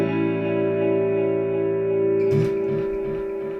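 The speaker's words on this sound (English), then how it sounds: "this, of course, is a tape echo without the whole multi-head thing" A sustained, heavily processed electric guitar chord rings out, then plucked notes repeat and fade in a slapback echo trail.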